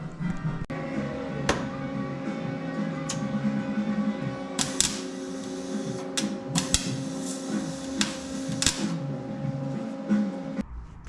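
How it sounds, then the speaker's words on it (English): Tack welding on a Chevy leaf spring relocation, with crackling welding bursts broken by sharp clicks and clanks over a steady electrical hum, close and fairly loud. "So, all right, next is to tack it in."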